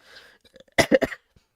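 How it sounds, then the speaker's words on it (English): A short burst of three or four close coughs, with quieter breathy throat sounds just before them, in a quiet room. "So, sorry for coughing."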